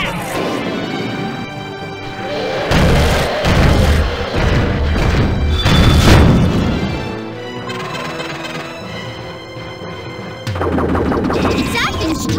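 A beetle's super finishing attack lands in the Mushiking arcade game with heavy crashing smashes and booming impacts over a busy music and effects track.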